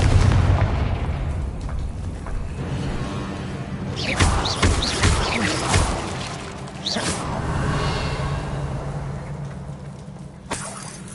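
Confringo blast spells cast in Hogwarts Legacy, a run of loud booming bursts over a rumbling low game backdrop, with a cluster of crackling hits in the middle and another sharp blast near the end.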